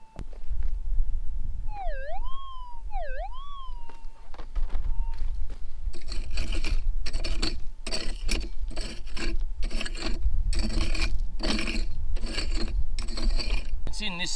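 Harsh, rhythmic scraping and rasping of a tool against gritty ground while digging out a metal detector target during gold prospecting in the Goldfields of Western Australia, repeated in bursts after a brief warbling electronic tone, loud and close.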